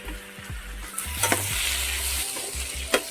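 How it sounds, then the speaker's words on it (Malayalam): Curry leaves dropped into hot oil for a paneer masala curry, giving a steady close sizzle with stirring scrapes and occasional sharp crackles, no voices. "ഒരു രണ്ട് തണ്ട് കറിവേപ്പിലയും കൂടി ഇട്ട് കൊടുക്കാം"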